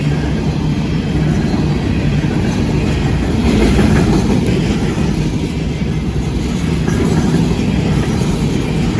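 A TECO coal hopper freight train rolls past close by, a loud continuous rumble and rattle of wagons with rolling wheel noise that swells briefly midway and never lets up.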